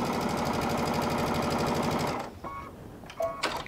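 A sewing machine chain-pieces a quilt block, running in a fast, steady mechanical patter for about two seconds. It then stops, leaving a few faint clicks and fabric handling sounds.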